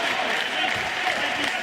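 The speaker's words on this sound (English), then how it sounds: "Now the crowd calling Bogdan's name." An Austrian crowd at an MMA fight keeps up a dense, steady roar, cheering and chanting for fighter Bogdan Grad, loud and continuous with no gaps.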